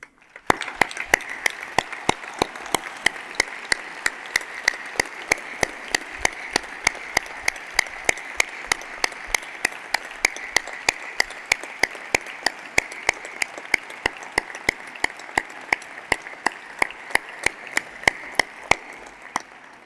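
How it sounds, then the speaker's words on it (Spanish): Long ovation at a 2018 university graduation ceremony honouring graduates' families, with a steady crowd wash of clapping under a very regular series of sharp, close hand claps repeating at an even beat throughout. "dedicar un merecido aplauso a estos familiares y personas de nuestro entorno que han estado a nuestro lado"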